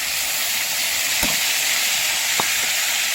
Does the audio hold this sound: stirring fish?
yes